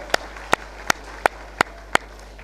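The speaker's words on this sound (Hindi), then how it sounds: "जोरदार तालियां।" Six sharp, evenly spaced single claps ring out one after another at a formal Foundation Day and Vijay Diwas veterans' celebration welcoming a chief guest, with a faint background hum and no crowd roar.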